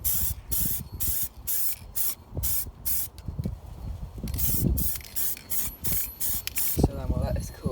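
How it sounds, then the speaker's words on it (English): A spray paint can sprays a clockwork O gauge model locomotive in short, repeated hissing bursts with brief gaps between them, close and moderately loud, with faint handling noises underneath. "Turn the can upside down and get rid of any paint left in the nozzle."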